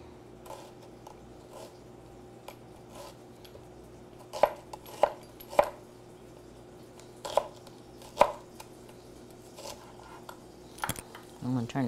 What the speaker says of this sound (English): Get this all chopped up.